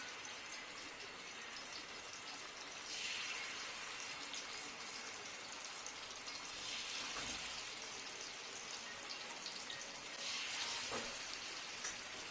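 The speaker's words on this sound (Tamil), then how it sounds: "ஃபிஷ்ஷை ஒன்று ஒன்றா ஃப்ரை பண்ண ஸ்டார்ட் பண்ணலாம்." Lady fish in a Madurai-style fry crackle in hot oil with a steady, rain-like hiss that swells gently now and then; fairly faint, with no talking.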